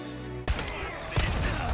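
A dynamite blast in Resident Evil 4 Remake bursts suddenly after a steady tone, loud and close, followed by a second thump and rumbling debris.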